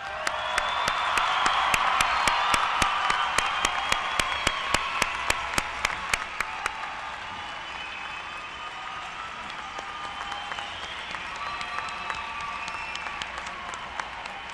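At a university commencement ceremony in a large hall, a big audience applauds the graduates. Sharp, rhythmic clapping with cheering swells early, then the clapping fades into a softer, diffuse crowd murmur.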